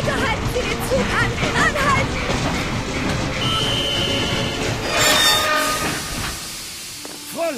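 A train at a station platform in an animated Heidi episode, with a continuous rumble of rolling wagons and hissing steam under layered music, and a brief whistle-like tone near the middle.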